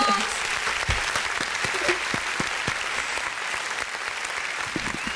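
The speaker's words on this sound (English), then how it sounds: "Can we get a round of applause?" Audience applause fills the room at a show introduction, a steady wash of clapping with a few sharper claps standing out near the front.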